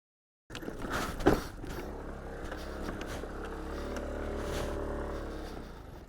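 Aprilia SR 125/160 scooter with dual sport tires ridden over a rough, broken road, its steady engine drone running throughout with rattling thumps from the bumps and a sharp jolt early on.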